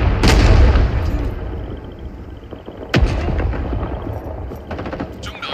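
Heavy artillery booms and machine gun fire in Rising Storm 2: Vietnam, a big blast at the start and another sharp crack midway, with sustained rumbling battle noise between.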